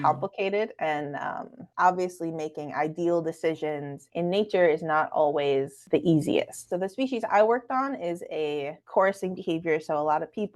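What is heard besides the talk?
No everyday noise stands out behind the speech.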